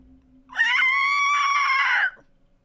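A person screeches to imitate a Capricorn creature during a Dungeons & Dragons session, one sustained, shrill, strained cry of about one and a half seconds, close and loud, alone with no talk over it.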